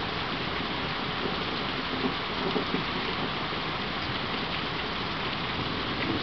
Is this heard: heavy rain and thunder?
yes